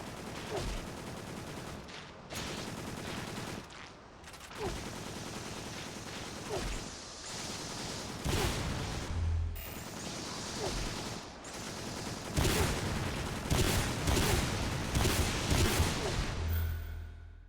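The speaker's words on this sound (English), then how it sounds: "I'm using the grenade launcher." A grenade launcher fires repeatedly in the PS2 game Extermination, loud bursting blasts arriving in dense volleys with whooshing gaps, the barrage growing heavier toward the end.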